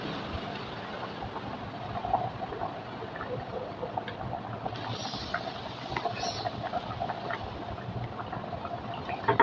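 Hilsa fish broth with mixed vegetables simmers under a lid, giving a soft, steady bubbling that stays faint and even throughout.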